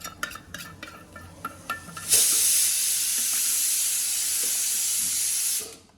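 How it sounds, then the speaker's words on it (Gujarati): Green chili chutney tempering hits hot oil and bursts into a loud continuous sizzle after a few light clinks and stirs, holding steady for several seconds before fading out, with no voices. "લીલા મરચાંની ચટણી જો વઘારીને કરી નાખીશ તૈયાર"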